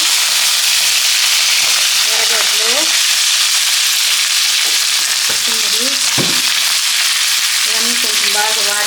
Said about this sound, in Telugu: అంతా వేసి వేయించుకోవాలి బాగా గరం మసాలా బాగా వేయించుకోవాలి కరింపాకు